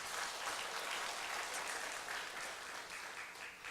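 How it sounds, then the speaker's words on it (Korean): A church congregation applauds together, an even wash of many hands clapping that holds steady throughout, fairly distant and soft. "박수 좀 쳐줘요."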